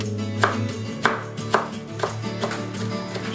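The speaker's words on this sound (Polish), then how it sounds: "Siekamy kolendrę." Fresh coriander chopped with a knife on a board: six evenly spaced, crisp chops about half a second apart, heard close over soft background music.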